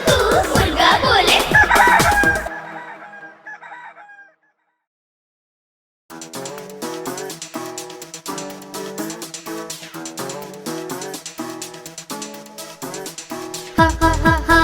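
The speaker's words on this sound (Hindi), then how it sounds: "कुकड़ूकू कुकड़ूकू, मुर्गा बोले" A rooster crows loudly once at the very start of a children's rhyme, followed by a stretch of silence and then bright, rhythmic music.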